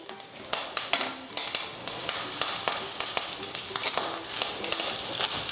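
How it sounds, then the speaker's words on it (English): Bite-sized food pieces fry in oil in a pan on a home stove at medium heat, giving a steady, close sizzle with frequent small crackles and pops and no talking. "wanna get it into little bite-sized pieces and just start putting it into the oil"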